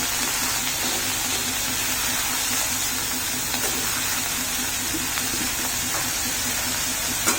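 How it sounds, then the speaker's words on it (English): Mushrooms frying in a pan over a low gas flame give a continuous, even sizzling hiss, close and steady throughout, with no speech. "Let the mushroom get fried nicely."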